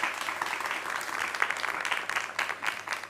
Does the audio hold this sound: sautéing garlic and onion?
no